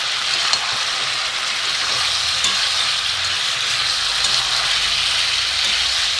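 Ground coriander, chilli powder and grated ginger sizzle steadily in a pan for a rohu fish curry, a constant close hissing fry with faint stirring scrapes and no speech.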